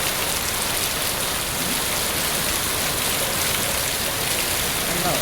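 Heavy rain keeps up an even, close wash of noise on a street as a bus goes by, a steady downpour with faint low rumbling beneath and no speech.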